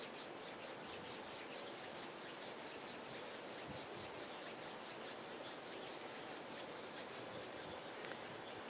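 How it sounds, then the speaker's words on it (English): Palms of the hands rubbed gently against each other at chest level during a guided meditation, a steady, close, continuous swishing friction with no talking. "gently rub the palms of your hands against each other"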